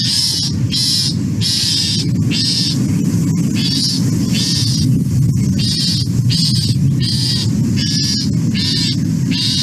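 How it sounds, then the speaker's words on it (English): A loggerhead shrike's harsh, raspy scold call, repeated about a dozen times in a quick, steady rhythm, loud and close against a low background rumble. "Loggerhead shrikes also scold. And their scold is pretty unique sounding compared to those other species."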